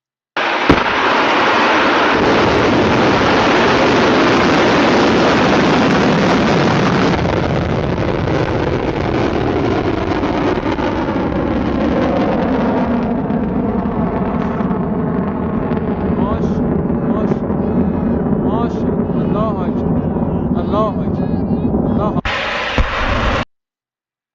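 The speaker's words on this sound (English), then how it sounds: "So that was a video of the rocket launching." Khorramshahr 4 missile launch, a loud sustained roaring rush that holds steady for several seconds, then slowly thins into a rumbling, crackling tail with wind buffeting the microphone, ending abruptly.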